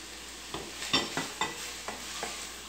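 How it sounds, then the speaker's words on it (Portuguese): Meat frying in a pan with a soft, continuous sizzle, broken by several sharp scraping stirs of a utensil at an uneven rhythm, fairly close and alone. "Aí vou deixar fritar aqui a carne."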